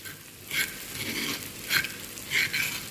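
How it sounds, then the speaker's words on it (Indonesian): Spring onions and onion sautéing in a pan make a steady, close frying sizzle, with three brighter bursts of spatula stirring spread evenly through it. "Nah ini tadi yang aku tumis ini daun bawang sama bawang bombay guys."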